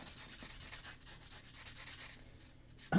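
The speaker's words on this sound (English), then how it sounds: "I'm going to sand my PCB." Steady, gritty rubbing of sandpaper scraping back and forth over a small circuit board, close and fairly quiet, ending with a sudden louder knock.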